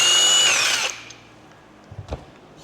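A power tool spins a bolt out of a Polaris transmission. It gives one short, close, high whirring burst, then cuts off into near quiet with a few faint clicks.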